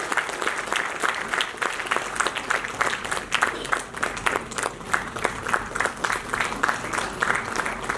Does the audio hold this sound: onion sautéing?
no